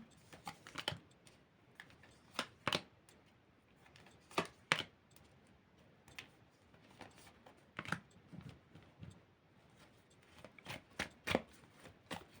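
Crisp, irregular snaps and flicks of cards being handled and set down one after another, close and fairly quiet, with no talking.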